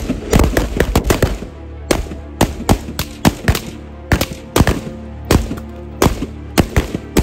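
Officers firing at a firearms training range, loud close bursts of rapid shots in irregular clusters with short pauses between volleys.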